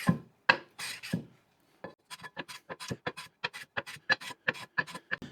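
A guitar fretboard rubbed with 240 grit sandpaper, a few longer rasping strokes at first, then a quick, even series of short scratchy passes close up.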